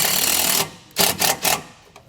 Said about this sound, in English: I'm going to use 2 more self-tapping screws.